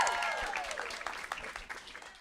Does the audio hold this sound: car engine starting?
no